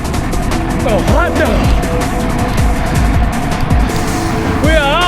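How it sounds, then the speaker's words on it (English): A convoy of sports cars drives past outdoors, engines rumbling loudly and steadily over several seconds, with people talking over the traffic. "Let's have this convoy of sports cars go past."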